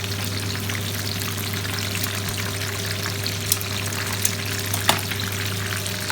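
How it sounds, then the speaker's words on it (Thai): A whole fish deep-frying in hot oil after being turned to its other side, a loud steady crackling sizzle with a few faint pops and one brief knock, close and with no talking. "ตอนนี้เรากลับตัวแล้วนะคะ ทอดอีกด้านหนึ่งค่ะ ให้กรอบนะคะ"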